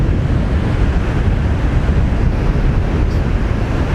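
Rough surf breaks steadily on a windy beach at Nai Harn, Phuket, with loud continuous wave roar and wind buffeting the microphone throughout, no voices.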